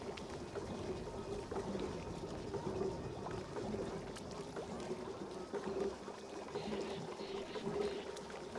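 Clean water pours continuously in the colony game Oxygen Not Included, a steady gurgling flow that runs evenly throughout with no talk over it.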